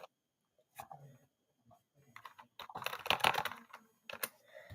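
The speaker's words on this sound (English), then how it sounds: "I know you guys can hear me typing every time I type" Typing on a computer keyboard, with scattered keystrokes at first, then a quicker, louder burst of clacking, close to the microphone and free of talk.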